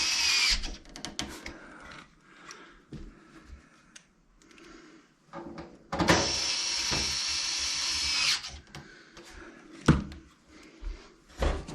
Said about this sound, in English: we now continue to replace the screws into the side of the machine